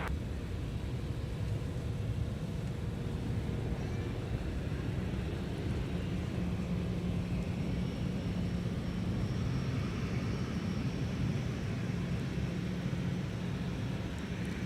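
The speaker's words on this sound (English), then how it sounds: "what we're looking at is Delta 2821 headed off to Charlotte. 717." Delta Boeing 717 airliner departing from MSP airport, a steady, distant low engine rumble and roar holding evenly throughout with no voices.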